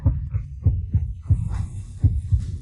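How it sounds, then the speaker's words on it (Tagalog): Racing heartbeat sound effect, a quick series of deep thumping beats in steady pairs, faint and alone with a low hum behind. "Ang bilis bigla ng tibok ng puso ko."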